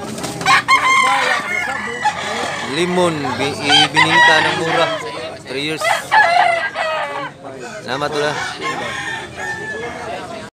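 Roosters of the Seven Brothers Tornido breed crow loudly and repeatedly, close by, with hens clucking and someone talking over them.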